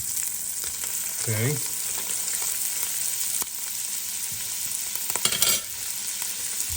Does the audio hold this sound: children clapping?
no